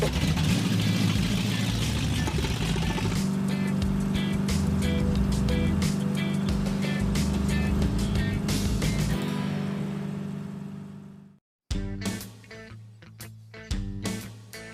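A Dodge Coronet's engine runs steadily, heard from close by as a continuous rumbling drone with clattering bursts. It cuts out abruptly near the end, then a few short rough revs follow.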